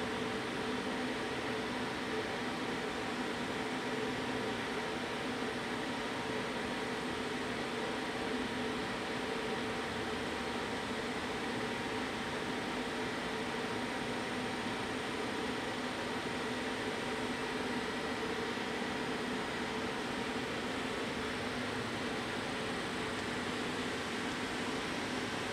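The spindle of a SHINRI CK7840A CNC turning center lathe turns at 150 RPM, giving off a steady, even mechanical hum with faint tonal whine and airy noise that holds unchanged throughout.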